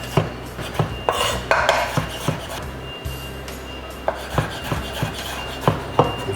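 Red beetroot is chopped into small pieces on a board with a knife, irregular sharp knocks of the blade landing in uneven bursts, close and clear with no talk.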